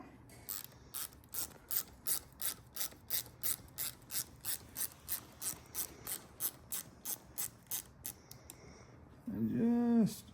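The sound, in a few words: tightening hardware on an RC car steering knuckle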